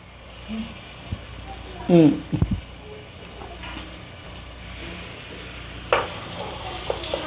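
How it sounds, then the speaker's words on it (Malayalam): Chopped garlic and onion frying in oil in a pan, a steady close sizzle with bursts of stirring scrapes, and a person talking over it. "ഗാർലിക് ഒണിയന് കട്ട് ചെയ്തത് ആ ഒരു ഓയിലിൽ ഇട്ടിട്ടുണ്ട്"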